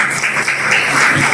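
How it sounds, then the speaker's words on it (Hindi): Guests at a Grandparents Day celebration in a school's primary wing are met with steady, dense applause from a crowd, a continuous wash of clapping that fills the short moment without a break. "मेहमानों का करे तालियों के साथ वेलकम।"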